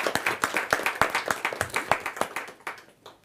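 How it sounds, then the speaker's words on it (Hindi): An audience at a Hindi poetry gathering gives loud, welcoming applause for a speaker, a brisk series of clear hand claps in a quick steady rhythm, close and strong, thinning out toward the end. "जोरदार तालियों के साथ हम उनका स्वागत करें।"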